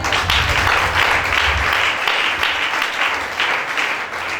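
A church congregation applauding to acclaim Jesus, dense sustained clapping from a crowd that keeps going with slight swells, close and loud throughout.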